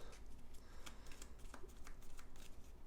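A deck of board game encounter cards is shuffled by hand at a table, with quiet riffling and flicking bursts that come one after another for a few seconds, heard close and faint.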